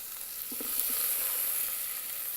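Tomato dropped into hot oil in an Instant Pot for Indian-style collard greens gives a steady, soft, close sizzle, with a brief clatter of the pieces landing early on and no talking.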